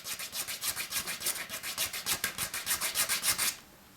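A hand file rasps across the plastic of a Bose SoundDock in about twenty quick, even back-and-forth strokes, close and steady, before stopping abruptly.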